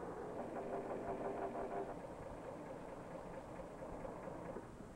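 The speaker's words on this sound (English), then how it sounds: "Many of these trucks are powered by diesel engines, close cousins to the gasoline engine." A diesel truck engine rumbles steadily at a low, even hum, quiet and somewhat distant, with a faint tonal whine partway through and no voices.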